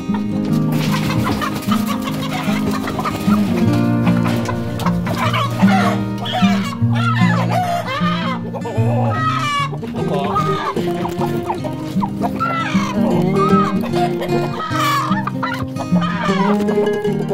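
Dumpy and Shamo chickens in a breeding trio cluck steadily and close by through the whole stretch, a busy, continuous layer of fowl calls with a few sharper notes, no talk.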